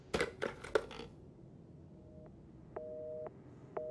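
A telephone receiver picked up in the Resident Evil 7 demo, Beginning Hour Twilight Version, gives a line tone in short, evenly repeated beeps after a few sharp handling clatters, with no voice on the line.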